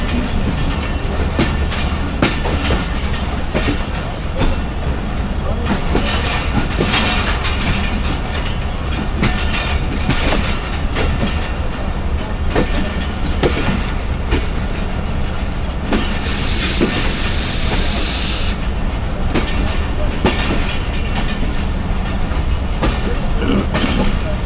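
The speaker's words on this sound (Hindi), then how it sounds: "40 डाउन जाफर एक्सप्रेस हम बोर्ड है" The 40 Down Jaffar Express passenger train rolls out of Khanewal Junction toward Multan Cantt. A steady, loud onboard rumble carries rhythmic clickety-clack from the wheels over rail joints, and a brief hiss rises partway through.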